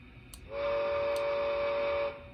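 A model steam locomotive's electronic sound-decoder whistle blows one steady, sustained blast lasting over a second, clear and fairly loud with a slightly hissy edge.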